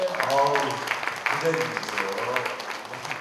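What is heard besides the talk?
audience applause at a first birthday party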